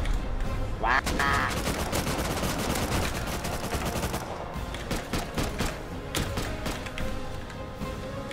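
Gunfire rings out in the Rust video game, with bursts of rapid shots and single loud cracks scattered across the clip amid constant game background noise.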